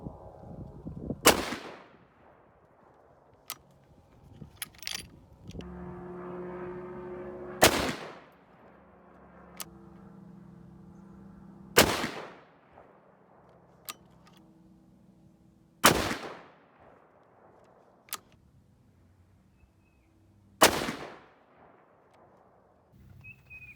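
Six sharp, loud 6.5 Creedmoor rifle shots firing 130gr Sierra Tipped Game King handloads over Reloader 17, spaced several seconds apart outdoors, each crack trailing off with a short echo.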